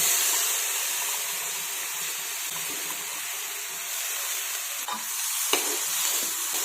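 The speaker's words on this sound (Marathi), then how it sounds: "डाळ फोडणीमध्ये चांगली परतून घेतली ना की मग ती लवकर शिजते" Soaked, drained lentils (dal) frying in a spice tempering, giving a steady close hiss and sizzle with occasional stirring clicks, no talk.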